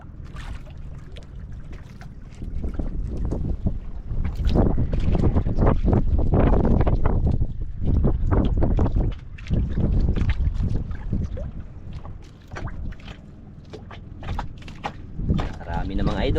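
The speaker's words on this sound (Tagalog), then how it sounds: "Yung isang bangka mga idol, ayun palipat na naman mga idol." A small fishing boat moves on open water, with broadband wind and water rush that swells and fades over about sixteen seconds, loud and close to the microphone.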